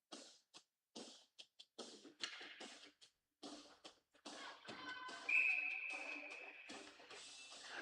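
A referee's whistle at a high school hockey game between Waupun and St. Mary Springs gives one sustained, piercing blast among scattered rink knocks, scrapes and arena noise.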